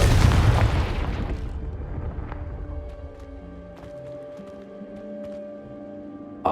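A fiery Confringo spell explosion from the Hogwarts Legacy game bursts loud and near at the start, then settles into a lingering, fading rumble with faint scattered ticks and a low ambient tone.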